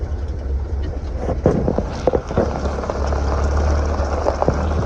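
A restored 1975 International Scout II rolls along a dirt road, its engine a steady low rumble with occasional knocks and rattles from the body over the bumps.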